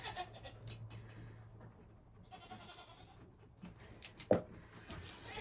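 A goat bleats faintly on a farm during pregnancy checks, with a few short, quiet calls scattered over soft background noise and a brief sharp knock near the end.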